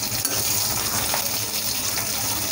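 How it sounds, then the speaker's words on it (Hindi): Onions fry in a pan for bhindi masala, giving a steady, close sizzling hiss that stays even throughout. "ये हम इसमें हम प्याज भूज रहे हैं"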